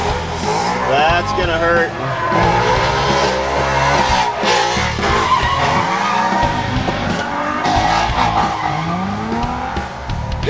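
Continuous loud tire squeal and engine roar from drift cars, a Nissan 350Z and a Mustang, sliding through zones at a drift competition, with excited commentary talking over the screeching throughout.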